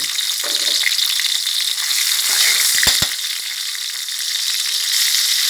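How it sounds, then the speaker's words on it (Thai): Chilies and a head of garlic hit hot oil in a wok, a loud, steady, close frying hiss with a couple of brief knocks partway through. "น้ำมันร้อนแล้วนะคะ พริกชี้ฟ้าสิบเม็ดกระเทียมหนึ่งหัวค่ะ ใส่ลงไปเลย"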